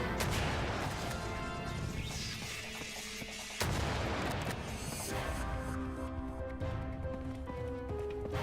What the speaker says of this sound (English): The shotgun's pretty powerful.